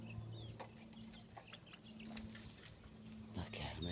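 Rhode Island Red and Golden Sex Link chickens cluck softly nearby in a backyard setting, with a steady hum beneath and occasional small rustles.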